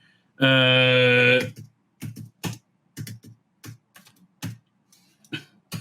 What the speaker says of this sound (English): It's so hard to type without saying what I'm saying